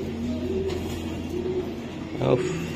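A foreign racing pigeon gives soft low coos, close and steady beneath a voice talking.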